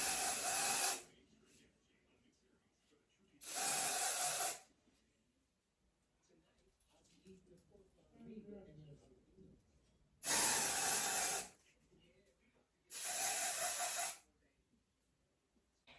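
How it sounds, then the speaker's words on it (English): Four sharp, hissing sprays of aerosol hair spray onto a lace wig, about a second each, close up, separated by quiet gaps with faint movement and soft handling noises. "So I'm gonna spray the wig."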